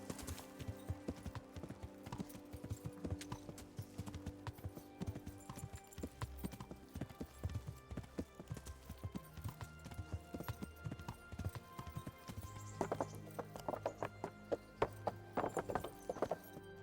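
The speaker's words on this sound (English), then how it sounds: "Horsey!" Horse hooves clip-clop steadily in the video game Kingdom Come: Deliverance, close and rhythmic, with an occasional whinny and faint game sounds underneath.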